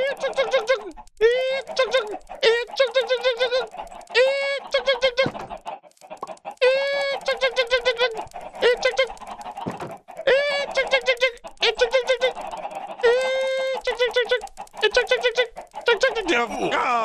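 Minecraft chickens cluck over and over in bursts of short, bright calls, loud and close, running steadily with only brief gaps.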